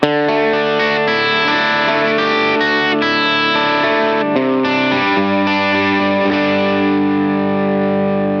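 A distorted electric guitar through a Line 6 POD Go amp modeler plays sustained chords with a chorus-like shimmer, loud and steady throughout, with no voices.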